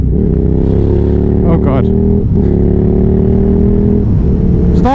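A KTM 990 Superduke R carrying a pillion rider roars loudly through rising revs and gear changes, its engine note climbing and dipping, while a startled voice exclaims over it.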